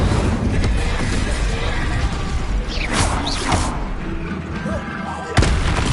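Spells cast in the Hogwarts Legacy video game, Incendio fire bursts and Confringo blasts, loud and continuous with crackling whooshes, booms and mechanical clatter layered over dense combat noise.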